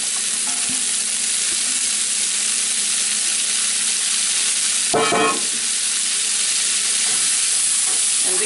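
Vegetables frying in a pot for jambalaya over a medium-low flame, a loud, steady close sizzle and hiss that fills the scene, with one brief clattering stir near the middle.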